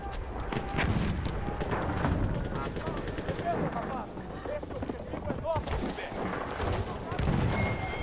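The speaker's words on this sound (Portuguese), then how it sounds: "Nossa, o cavalo pulou aqui por cima de mim" A horse gallops and jumps in the Battlefield 1 war game: quick hoof clip-clops blend with scattered gunfire and explosions, while someone talks over the action throughout.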